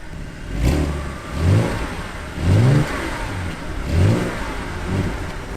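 An Audi A5 Coupe with a 3.2 V6 FSI direct-injection petrol engine, quattro and Tiptronic, revs up in repeated surges as it accelerates, rising and falling about four times, close and loud with no talking.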